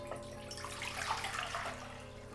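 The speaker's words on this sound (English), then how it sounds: "So this is one tapioca that I cut into pieces. I'm going to wash it really well." Tapioca pieces washed under running water in a kitchen sink, a steady faucet stream splashing over the pieces with a faint low hum underneath, no talking.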